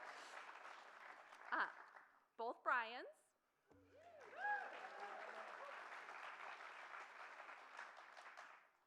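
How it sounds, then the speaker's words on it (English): Audience applause at the 2024 Pioneers In Design event rises beneath a presenter's amplified voice, a soft, steady wash of clapping that continues under and between her speech. "Just keep clapping."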